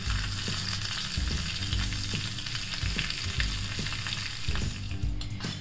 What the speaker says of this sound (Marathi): मी कढईमध्ये ना थोडं तेल गरम करून घेतलंय. त्याच्यामध्ये जिरे घालते